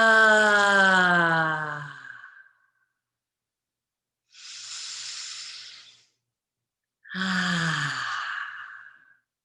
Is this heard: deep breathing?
yes